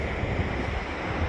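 Steady cold wind roars across the microphone in Iceland in October, a constant broadband rush with no voices.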